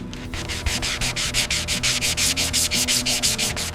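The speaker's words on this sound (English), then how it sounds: "then meticulously sanded and polished by hand" Paint on a Duesenberg Model J being sanded by hand, with steady rhythmic back-and-forth rubbing strokes about five per second, close and loud, with no talking.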